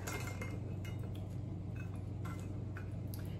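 Kale Caesar salad goes onto a serving platter with a few faint clinks and taps of utensils against dishware, over a steady low hum, no voices.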